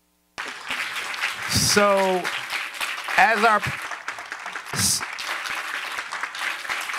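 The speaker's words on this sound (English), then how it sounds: "Can we give a big round of applause for our brilliant farmer panelists?" An audience at a farming event applauds farmer panelists with a steady wash of clapping that runs throughout, while a host's voice speaks over it.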